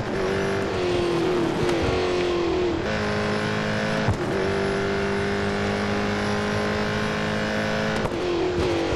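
A Ford Falcon FG X race car engine in the Real Racing 3 video game drones loudly and steadily, its pitch dipping and climbing in repeated shifts as the car brakes and accelerates around the track, with no talking.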